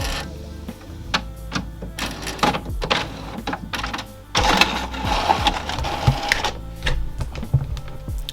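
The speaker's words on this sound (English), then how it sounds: "it's printing now" A printer runs loudly up close, with mechanical whirring, clicks and clunks of paper feeding in irregular bursts.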